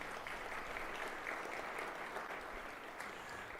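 An audience at a nonprofit funding forum applauds, a steady, even wash of clapping heard at a distance and fairly faint, without speech.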